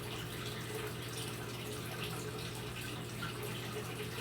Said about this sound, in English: I have a waterfall coming out of his filter